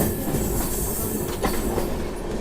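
The Amrit Bharat Express, on its inaugural run out of Warangal with new coaches, rumbles along loudly from inside, its wheels giving a steady clatter and faint squeal over the tracks.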